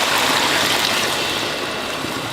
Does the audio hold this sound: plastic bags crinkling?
no